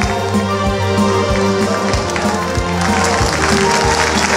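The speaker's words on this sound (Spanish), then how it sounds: "Más fuerte ese aplauso al Rey de Reyes." A church congregation claps loudly and steadily, a dense close crowd of applause with rhythmic beats running throughout, and a voice briefly audible over it.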